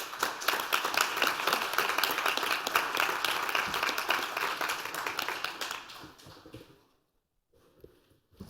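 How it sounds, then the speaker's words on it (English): A workshop audience at the 2016 Internet Governance Forum applauds its speakers on law enforcement and cyberspace jurisdiction, with dense, loud clapping for about six seconds that quickly dies away. A little noise follows. "Please join me in a round of applause to all our speakers here."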